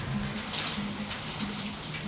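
Steady rain falls outdoors at a park, a soft, even hiss of drops with scattered louder patters on nearby surfaces, continuous for about two seconds with no talking.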